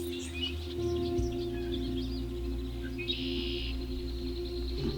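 Birds call in the woods, faint scattered chirps and short whistled notes over a steady low hum, with no talking.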